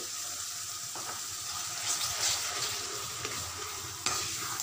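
Onion masala with added tomato puree sizzles and fries in a pan as a spoon stirs it, giving steady crackle with occasional scraping strokes, fairly quiet and close, with no talking.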